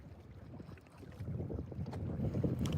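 Wind gusting over a lake during Hurricane Milton while bass fishing, a steady low roar with buffeting microphone rumble that builds slightly toward the end, with no voices.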